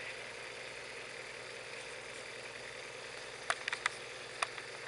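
A Visible V8 model engine runs steadily at 500 RPM, a continuous low mechanical hum with faint vibration, punctuated near the end by a few brief sharp clicks or taps.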